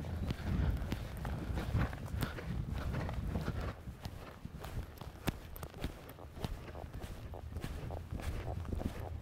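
Young horse walking at an equestrian masterclass, hooves thudding in a steady, moderately quiet rhythm over a busy outdoor background for several seconds, with no talk.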